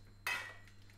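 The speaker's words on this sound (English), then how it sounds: "Stirring some cheese." Cheese being stirred into a moussaka sauce in a pan, with a single loud scraping clatter of spoon against the pan that fades into quieter stirring and faint clinks.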